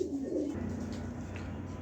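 Red check pigeons give a low, soft throaty coo close by, a short rolling call against a faint background hum, with no talking.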